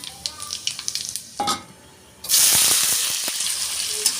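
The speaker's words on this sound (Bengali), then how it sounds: "কড়াতে তেল দিচ্ছি তেল গরম হয়ে গেছে পাঁচফোড়ন দিলাম" Panch phoron spices dropped into hot oil in a kadai burst into a loud, steady sizzle after a few light clinks and a pause, the hiss close and continuous to the end.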